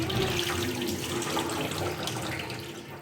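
Tap water runs steadily into a kitchen sink while aloe vera greens are rinsed under it, a continuous close splashing gush with no pauses.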